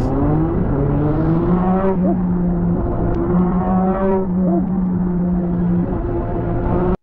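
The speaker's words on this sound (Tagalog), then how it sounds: "Yung tunog ng motor inline 4 eh." Inline-four big bike engine drones steadily and loudly on the road, holding a continuous multi-tone note that rises and shifts as revs change, with no talk over it.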